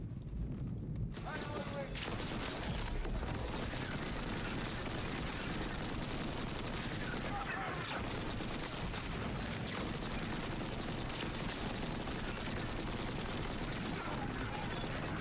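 An SMG fires in a video game, a dense, continuous rattle of rapid gunfire and explosive effects that stays loud and unbroken for about fifteen seconds.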